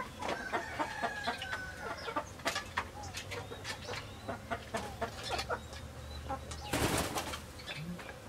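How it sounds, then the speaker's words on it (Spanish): A rooster and chickens cluck repeatedly in short, irregular bursts close by, with a rustling flurry partway through and soft background murmurs. "Este es el gallo."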